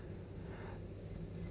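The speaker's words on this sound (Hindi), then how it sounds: "देखिए मेरा अलार्म बज रहा है" An alarm clock goes off in short repeated bursts of bright beeping, two quick pulses, a pause, then two more, fairly faint over a low room hum.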